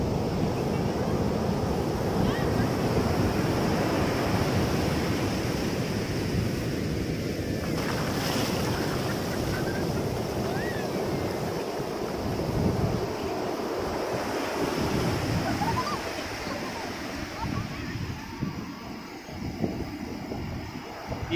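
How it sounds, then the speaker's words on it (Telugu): Rough sea at Veli Beach in Kerala, a constant heavy roar of breaking waves and surf mixed with buffeting wind noise on the microphone, loud and unbroken throughout. "ఈ సముద్రం. చాలా రఫ్గా ఉన్నది ఫ్రెండ్స్."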